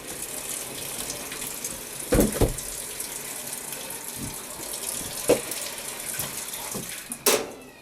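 Water runs into a washing machine starting a rinse and spin cycle while cloth diapers are washed. A steady hiss of filling water is broken by a few soft clunks and knocks.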